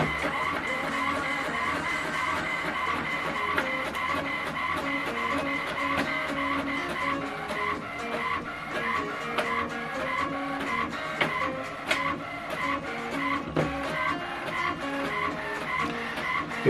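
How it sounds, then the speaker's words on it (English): An HP Envy 6032 inkjet printer prints a scanned document page, a continuous mechanical whir with rhythmic carriage shuttling and clicking of paper feed, steady and close throughout with no voices. "It will also show you that it's printing right now"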